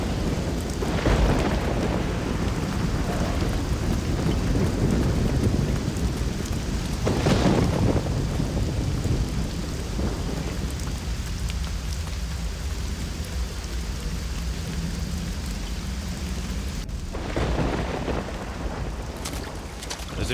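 Thunderstorm with heavy rain in the video game Risen 2: constant loud rain wash with rolling thunder rumbles swelling and fading throughout.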